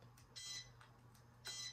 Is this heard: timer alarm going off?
yes